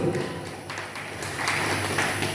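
Audience applause at a union leadership event in Tebing Tinggi, a moderate spread of clapping that continues steadily, with some voices mixed in underneath.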